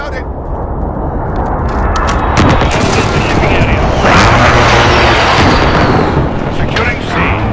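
Call of Duty Modern Warfare match with loud, dense gunfire and rolling airstrike explosions that swell and overlap continuously, radio callouts faintly under the chaos.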